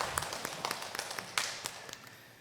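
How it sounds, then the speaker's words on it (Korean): A church congregation claps during a morning worship service, a sparse, quiet patter of scattered hand claps over a couple of seconds. "박수 돌리겠습니다."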